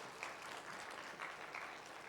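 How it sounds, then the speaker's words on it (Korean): A church congregation applauds during a worship service, a quiet, steady patter of many hands clapping heard from a distance for about two seconds. "우리 하나님께 다시 한번 영광의 박수를 올려드립니다."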